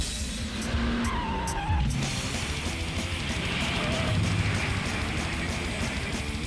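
A white Jeep rams police cars while its tires skid and squeal, heard as a loud, continuous churn of engine and scraping rubber with sharp impacts near the start, and faint voices in the background.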